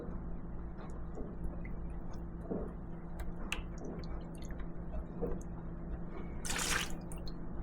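Mixed concrete countertop sealer leaks and drips from a small pouring jug in quiet, close drips and soft wet squishes, ending in a brief louder splash.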